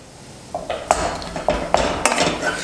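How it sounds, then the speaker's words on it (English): A spoon clinks and scrapes against a pot while churro dough of boiled water and flour is stirred, several sharp metallic taps at an uneven rhythm, close and fairly loud, with no talk. "You want to keep mixing it."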